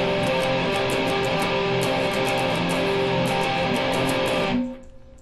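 Heavily distorted electric guitar power chords in a rhythmic metal riff, thick and loud with chugging palm-muted strums, ringing until a sudden stop that leaves a faint decaying tail.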